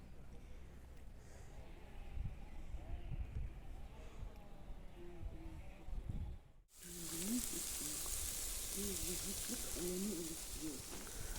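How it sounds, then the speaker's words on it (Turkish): Meat sizzles on a charcoal mangal at a lakeside fishing camp in autumn, a steady crackling hiss close by. Voices talk underneath, and the sizzle grows brighter and louder partway through. "Evet mangalımız pişiyor."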